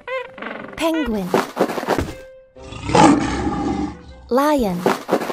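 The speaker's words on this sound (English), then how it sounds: "Lion." A lion in a kitten preschool video game gives a loud, rumbling roar midway, set between bright cartoonish voiced game sounds before and after it.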